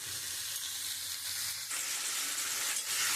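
Chili powder, turmeric and chilies fry in hot oil in a pan for a Bengali prawn and pumpkin dish, a dense, continuous sizzle that swells slightly midway, close and loud with no talking.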